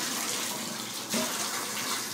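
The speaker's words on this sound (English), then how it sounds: "Let the water run through these little fake flowers" Hot tap water runs steadily while rinsing a hummingbird feeder with small fake plastic flowers, a close continuous splashing gush with a brief shift in tone midway.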